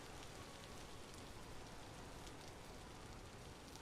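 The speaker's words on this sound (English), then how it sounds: "Is it because I'm outside in the rain?" Rain in the Vintage Story video game, a faint steady patter of drops on surfaces with no voices over it.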